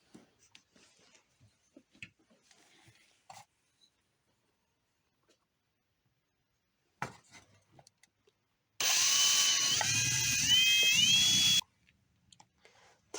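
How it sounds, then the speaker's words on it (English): A power drill bores into a cypress wood fishing lure in one loud, steady burst of about three seconds, its pitch sliding as the bit bites, with quiet handling sounds before and after. "So let's get to drilling."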